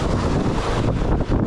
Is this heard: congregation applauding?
no